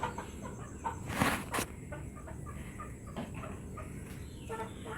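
Backyard hens kept as a hobby cluck on and off at close range, short repeated calls over a steady rural background hum, with a louder burst of fowl noise partway through.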